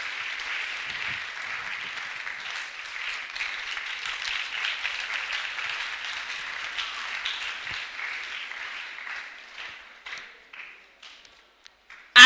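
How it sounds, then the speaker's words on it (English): An audience at a school International Women's Day celebration claps steadily for several seconds. The applause then thins out and fades to scattered claps. "With a round of applause, let's welcome Mrs. Winifred Ansa Hughes."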